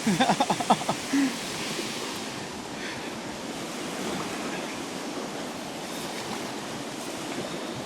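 Powerful river water on the Carmans River rushes and churns in a steady, broad roar, with a few brief splashy bursts near the start and some wind noise mixed in.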